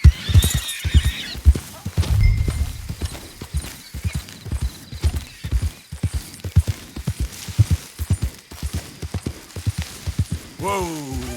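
A horse in Red Dead Redemption 2 gallops with loud, close, rhythmic hoofbeats for several seconds, closing with a rising whinny, with a voice briefly over it at the start.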